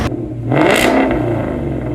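A twin-turbo race car engine revs up sharply from idle, rising to a loud, rough roar that holds with crackling, rattling texture, close by and with no talk over it.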